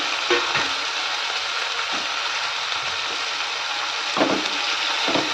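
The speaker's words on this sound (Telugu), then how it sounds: "ఈ టమాటో పీసెస్ని ఆనియన్లోకి యాడ్ చేస్తున్నాను." Tomato pieces frying with onions in a pan for tomato rice, giving a steady, close hiss of sizzling oil with a few soft stirring scrapes and no voices.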